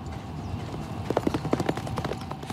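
A racehorse's hooves clip-clop on a training track in Dubai, a fast uneven patter of hoofbeats that starts partway through over a steady low background rumble.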